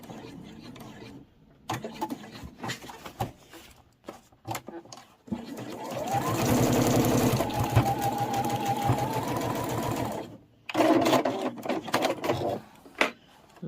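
A sewing machine stitches a cross-body sling bag in one sustained run of steady whirring, framed by stretches of quieter handling and someone talking.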